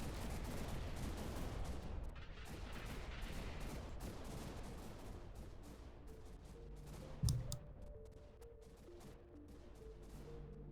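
Auto gun towers firing in the space strategy game Annihilate The Space amid large ship battles: a dense, continuous crackle of rapid gunfire and impacts, fairly quiet and steady, with one heavier thump partway through and no speech.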